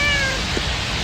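A house cat meows in one brief, fairly loud call close by, set over a steady constant background hum.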